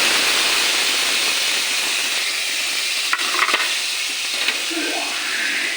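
Spice paste hits garlic and onion frying in a pan for a ridge gourd and shrimp dish, a loud steady sizzle and hiss with a few brief clicks and scrapes of stirring midway.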